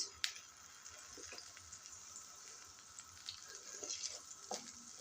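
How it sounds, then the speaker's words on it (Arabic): Soft, steady sizzling of chopped garlic, coriander and parsley frying in oil, with faint crackles and occasional light clinks, quiet and close with no talking. "كنخلي الثومه والربيع مع الزيت كيتقلاو شويه"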